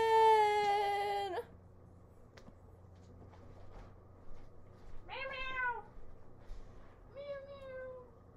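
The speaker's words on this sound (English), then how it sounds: "Here's my kitty cat." A pet cat meows twice indoors, close and clear, with a rising, drawn-out cry, after a loud sung note fades at the start.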